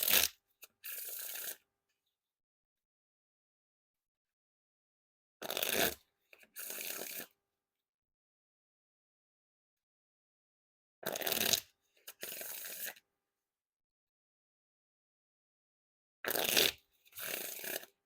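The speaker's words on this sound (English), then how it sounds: "And now time for the riffle shuffle or bridge shuffle." Four riffle shuffles of an Abandoned playing cards deck by Dynamo, each a quick papery burst of cards riffling, close and clear, separated by long silent gaps.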